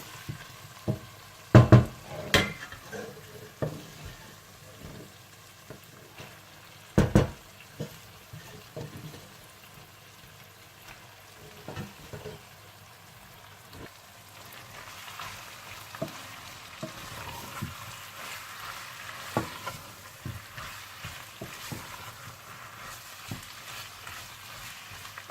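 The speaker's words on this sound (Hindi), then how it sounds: "आप इसमें पालक डालकर अच्छी तरह से मिला लें" Spinach is stirred into frying potatoes in a pan, giving a soft, low sizzle with a few sharp clatters of the spoon against the pan near the start and scattered scraping and stirring after.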